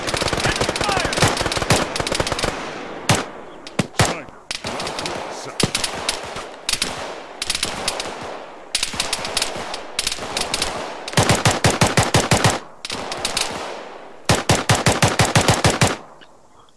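Bursts of automatic machine gun fire in the military video game Arma, loud, close and repeated in rapid volleys with short gaps between them, while players' voices speak briefly over the shooting.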